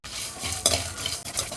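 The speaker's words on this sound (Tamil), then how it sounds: "2 நார்மல் மிளகாய், 2 காஷ்மீரி மிளகாய் சேர்த்து இதெல்லாம் சேர்த்து நல்லா வறுத்துக்கலாம்." Whole spices, bay leaf and regular plus Kashmiri dried chillies being stirred in a dry pan, with a scraping stir, a sharp utensil clink and faint crackle, close and alone.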